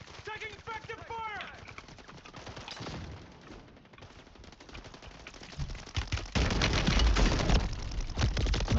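Rapid bursts of automatic gunfire in the video game Warzone 3 Plunder mode, sounding in clustered volleys at moderate loudness alongside game effects, with a player talking at the start.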